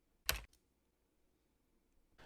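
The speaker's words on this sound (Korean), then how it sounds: "입력이 끝났다면 엔터키를 눌러 명령을 마무리합니다." A single sharp click of the Enter key on a computer keyboard, close and isolated in a quiet room, followed by a faint second tap and near silence.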